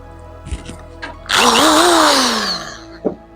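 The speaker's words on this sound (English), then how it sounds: "3000 RPM hammer drill." A 3000 RPM hammer drill spins up with a sharp whine that rises and then slowly winds down, loud and close, framed by a few small knocks before and after.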